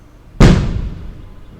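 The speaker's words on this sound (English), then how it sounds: "people are loading up their fireworks right now, so it might get pretty loud" A single firework bursts outside with a sharp, loud boom that fades into a rumbling tail over about a second, heard alone without talk.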